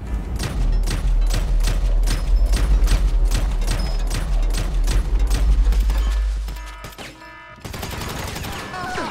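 Gunfire in Grand Theft Auto V during a facility security breach: steady, rhythmic volleys of loud shots for about seven seconds, then the firing stops and a different, quieter sound follows.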